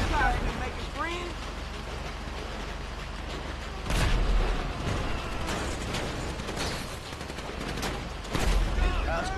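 Gunfire in GTA 5 during a shootout, loud bursts and shots scattered through a dense, noisy mix of game action with voices talking over it.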